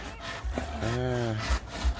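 A hand saw cuts through wood in short rasping strokes, fairly close, with a faint voice in the background.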